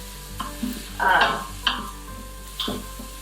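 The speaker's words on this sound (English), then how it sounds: "So we're just gonna saute this for a couple minutes" Onion and garlic sautéing in a pan, heard as a few close, short scraping stirs of a utensil through the pan over a low steady hiss, spaced about a second apart.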